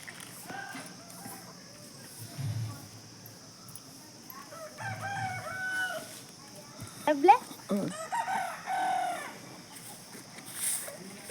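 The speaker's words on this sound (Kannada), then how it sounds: "ಸ್ವಲ್ಪ ಹೊತ್ತು ನಾ ಮಾತಾಡಲ್ರಿ, ಸೌಂಡ್ ಕೇಳಿಸ್ಕೇರಿ. ಕೋಳಿ ಸೌಂಡು." A rooster crows among clucking chickens in a quiet village setting, with people talking softly in the background.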